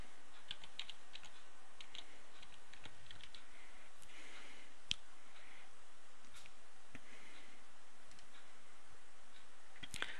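Keys tapped on a computer keyboard while a folder name is entered, giving soft, close, irregular clicks in short bursts over a faint steady background hiss, with no talking.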